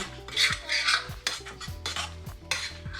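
Homemade Puerto Rican sofrito being mixed in a bowl or pot, with repeated scraping and clinking of a utensil against the container in an uneven stirring rhythm, close and moderately loud, no talking.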